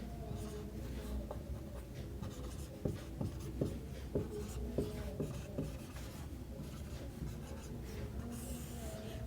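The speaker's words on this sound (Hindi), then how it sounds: "कोई दिक्कत नहीं, ब्लैक पेन से लिख लेते हैं।" A black pen writes on paper during a number system lesson, with soft, quiet scratching strokes in a steady rhythm and a few sharper ticks in the middle, close to the microphone.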